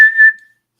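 A person gives a short, clear whistle lasting well under a second, a single pure bright tone that holds briefly and then fades out, close and alone.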